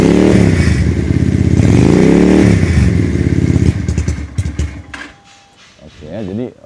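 Keeway V250 motorcycle with a modified exhaust, its deep engine note throbbing loud and steady for a few seconds before easing off, with someone talking over and around it.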